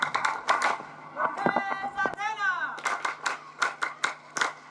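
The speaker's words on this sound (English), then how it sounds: "You can clap for yourselves." Graduates of a basic canine induction course clapping for themselves at a passing-out ceremony, scattered sharp handclaps from a small group, nearby and fairly quiet, with voices and a brief whistle-like tone in the middle.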